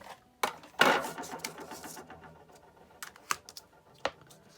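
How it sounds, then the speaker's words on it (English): A die cutting machine cranks a lighthouse shape out of matte silver cardstock, giving a burst of mechanical grinding and clicking near the start, then sparse sharp clacks and taps trailing off at close range, with no voices. "we're going to die cut our lighthouse"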